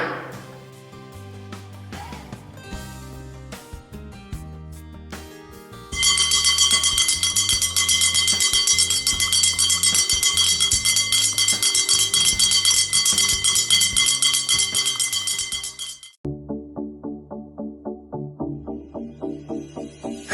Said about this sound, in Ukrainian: Дзвени, наш перший дзвонику, лунай, і рік навчання знов розпочинай.